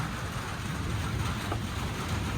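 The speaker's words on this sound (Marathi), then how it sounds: "तर इकडं लय पाऊस आहे" Heavy rain pouring down steadily as a dense, loud, unbroken hiss that fills the whole moment, with no talk over it.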